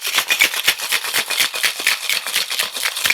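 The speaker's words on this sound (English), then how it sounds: "We're going to now put this together and give it a shake." A cocktail shaker holding an Enzoni made with dry gin, Campari and grapes is shaken hard, giving a fast, even rattle of ice, close and loud, with no talking.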